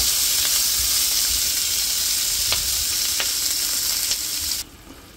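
Green pepper, red pepper and onions frying in a pan for sweet and sour chicken: a steady, close, loud sizzle and hiss with a few faint clinks of stirring, dropping off abruptly near the end.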